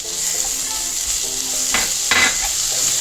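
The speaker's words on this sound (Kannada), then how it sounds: "ತುರಿದಿರುವಂಥ ಮ್ಯಾಂಗೋನ ಇದಕ್ಕೆ ಹಾಕ್ಕೊತಾ ಇದ್ದೀನಿ ಒಂದು ಬೌಲು" Grated mango drops into hot masala and oil in a pan over a medium flame, bringing close sizzling and a few scraping stirs and clinks of a utensil, with no voices.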